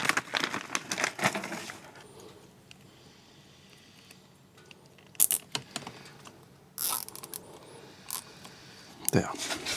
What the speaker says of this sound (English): just going to secure the front brake with a cable tie